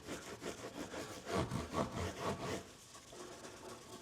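An electric guitar gets sanded with 600-grit paper, a soft rapid back-and-forth rasping in quick steady strokes, close and fairly quiet with no talk.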